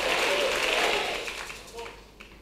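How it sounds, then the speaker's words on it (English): Church congregation clapping hands together in a loud burst that fades out over a couple of seconds, with voices mixed in as the claps die down. "My sons and my daughters, clap your hands and say, I'm ready for change"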